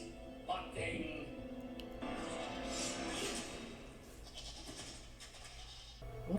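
A goat bleats in a film scene, wavering calls mixed with music and background effects at moderate loudness.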